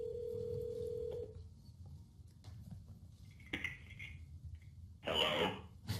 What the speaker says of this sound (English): My Mac's going to actually make a speakerphone call through my phone